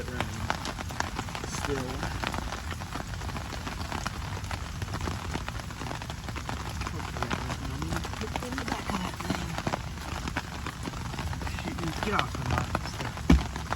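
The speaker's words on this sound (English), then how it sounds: "No, it's legit rain." Steady rain falls during a thunderstorm beside a muddy ditch while fishing, a constant close hiss and patter running throughout, with someone talking over it.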